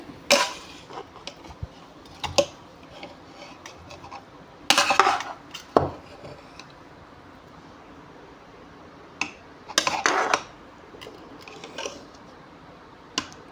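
Vegetable biryani is mixed in a pressure cooker, with sharp metallic clanks and scrapes of a spoon against the pot in irregular bursts and quiet pauses between them.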